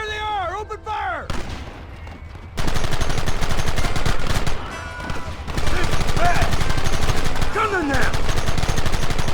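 Gunfire in the Western video game Red Dead Redemption, with dense bursts of rapid shots and loud volleys after a quieter musical opening, sharp cracks continuing throughout under occasional voices and game music.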